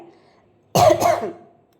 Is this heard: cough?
yes